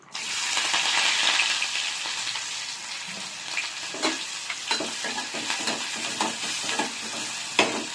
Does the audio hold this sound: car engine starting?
no